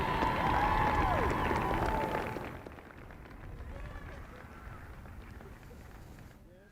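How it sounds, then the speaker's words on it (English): Crowd applauding and cheering at a Lynchburg women's soccer senior day ceremony before a match against Shenandoah, loud and sustained at first, then fading to a quieter murmur of clapping with voices mixed in. "Let's have another round of applause for the class of 2021."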